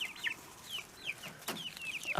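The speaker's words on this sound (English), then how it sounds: "Okay, here's my rooster friend." Close, lively clucking from a rooster and chickens, with repeated quick calls and a sharp peck or scuffle sound in the middle, no voices over it.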